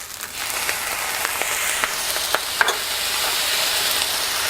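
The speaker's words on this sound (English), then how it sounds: "I'm now going to start adding in my seasoning. So I've got some light soy sauce." Fried rice sizzles hard in a hot pan as light soy sauce goes in. The frying is loud and constant, with faint scrapes of stirring and no voice.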